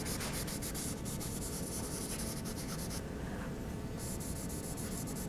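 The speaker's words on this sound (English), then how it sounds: "So I'm going to put some more charcoal in this area" Charcoal rubbing and scraping across drawing paper while a cylinder-shaped bottle is shaded, a close, steady continuous friction texture with no gaps and no voices.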